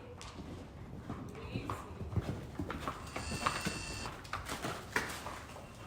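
A horse moving at a canter and trot during a riding session at a barn, with rhythmic hoofbeats thudding steadily at close range while a person talks over them.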